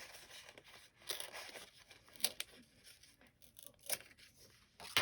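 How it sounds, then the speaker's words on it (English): A paper page is torn out of a junk journal: close, crisp tearing with crinkling, steady throughout with a few sharper rips along the way. "I'm just gonna rip this one out"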